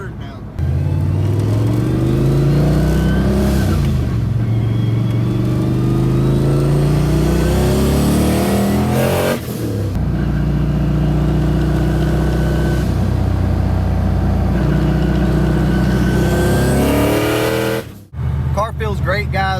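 A car accelerates hard in third gear with its wheels spinning, the engine note climbing loudly and repeatedly in rising sweeps, close up, with a person talking over it.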